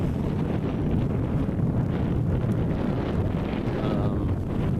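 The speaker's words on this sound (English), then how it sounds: "Wind ebbs and flows a little bit" Wind rushes steadily past a sailboat cruising overnight under a double-reefed sail, a constant loud buffeting roar on the microphone with no talking.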